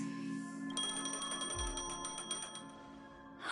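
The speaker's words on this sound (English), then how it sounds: "A phone." A phone ringing in the video game Honkai Star Rail, a repeated bright electronic trill in quick pulses over soft background music, fairly quiet, with no talk.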